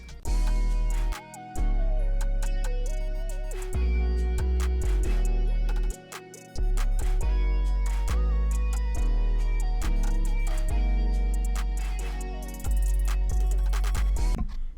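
A full pluggnb hip-hop beat made in FL Studio with deep booming 808 bass, crisp hi-hats and a melodic synth line, loud and continuous with brief dropouts.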